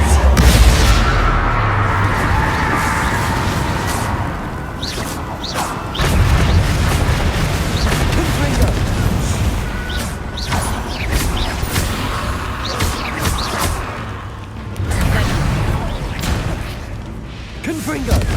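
Repeated Confringo blasting-curse explosions in the Hogwarts Legacy video game: heavy booms and crashes amid constant battle noise and background music, with a voice speaking over the din.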